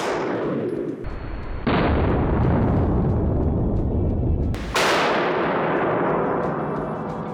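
A 9mm bullet fired at machine tool safety glass: a sharp, loud gunshot crack with a long ringing decay, then a second loud impact-like report a few seconds later, each trailing off into lingering noise.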